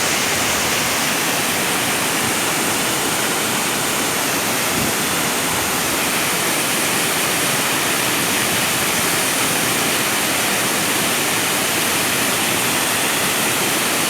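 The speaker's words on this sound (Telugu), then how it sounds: "జలజల కలకల పారే జలపాతం" Dense, unbroken roar of Kailasakona-area Kaigal waterfall in a dense forest in Chittoor district, loud and close, holding steady throughout with no other sounds.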